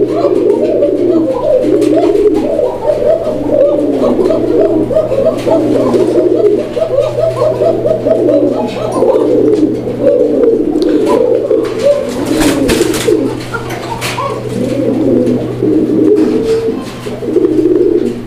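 Several running pigeons in a loft, including a breeding master pair, coo continuously in overlapping low rolling calls close by, with a steady hum beneath and occasional voices.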